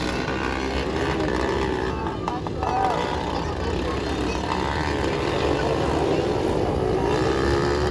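Motocross motorcycles in the final heat of a fiesta race, a steady broad engine drone throughout, somewhat distant, with crowd noise and a voice commentating over it.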